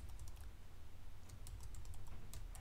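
Rapid typing on a computer keyboard, with crisp irregular key clicks over a steady low hum, close and fairly quiet, with no voice present.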